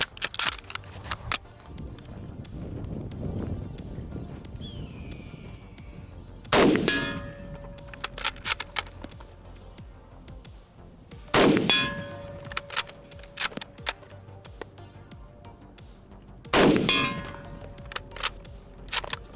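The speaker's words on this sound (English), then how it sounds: "And then we got some shooting with the Mosin." Mosin rifle shots striking a steel target, each sharp crack followed by a ringing metallic clang, three distinct hits spaced several seconds apart with quieter handling noise between, no talk.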